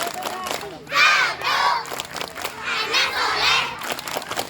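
Schoolchildren from grades one to six at a school assembly clap and chant in unison, two loud rhythmic bursts of many young voices separated by a short pause, with an adult voice amplified over a microphone.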